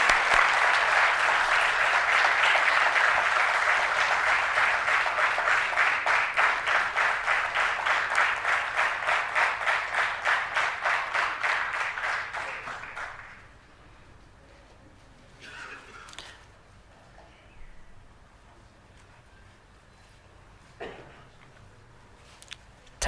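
Applause for an award winner at an entrepreneurs' day ceremony: a loud crowd claps steadily, settles into a rhythmic unison beat, then stops abruptly about halfway, leaving a quiet room with a few scattered knocks.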